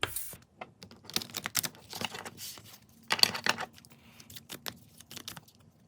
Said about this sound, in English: It's a lovely shuffle, I find. All matte cards shuffle lovely.